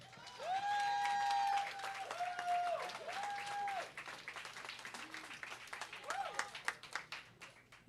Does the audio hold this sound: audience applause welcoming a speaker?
yes